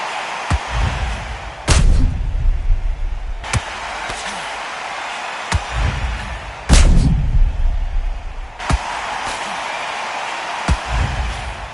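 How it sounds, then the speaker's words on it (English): Sniper rifle shots in an esports match video game, a string of sharp cracks spaced a second or two apart, two of them heavier booming impacts, over a constant hiss of game ambience. "The perfect sniper shot."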